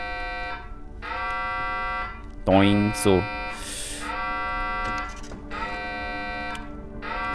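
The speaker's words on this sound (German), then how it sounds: "Wieso ist denn da eigentlich noch so ein Alarm?" A harsh electronic alarm buzzing steadily in the game Heavenly Bodies, a loud repeating tone with brief pauses, under people talking and a short rising whoop partway through.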